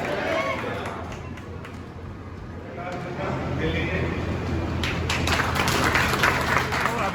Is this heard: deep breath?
no